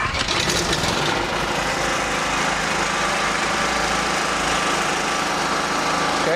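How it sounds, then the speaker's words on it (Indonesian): A FPG4999ECII generator, started with its manual pull-cord starter, runs loud and close with a steady, buzzing small-engine drone that holds throughout with no pauses. "kita akan menyalakan mesin genset ini dengan menarik engkol starter pada bagian sini"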